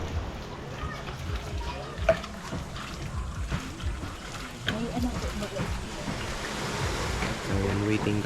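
Surf washing onto a shore in a rural seaside area, a steady broadband roar with wind buffeting the microphone and a few stronger wave surges toward the end, no talk.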